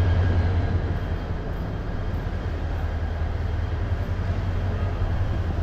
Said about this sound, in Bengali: ট্রেন চলে আসছে। এটা হলো আমার ট্রেন, এটা হলো আমার ট্রেন।